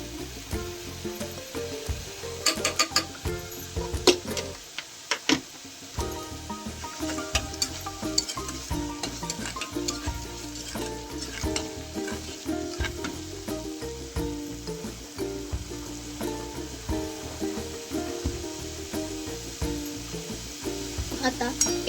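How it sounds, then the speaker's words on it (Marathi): Spiced masala roasting in sizzling oil in a pan for paneer tikka masala, a steady close crackle and hiss with occasional stirring scrapes throughout. "आता याला तेल सुटेल, थोडंसं भाजून घ्यायचं."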